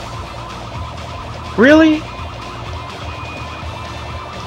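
Police car siren from the Need for Speed III racing game (Hot Pursuit mode), a single loud rising wail lasting about half a second over steady engine and game noise, with a voice speaking briefly.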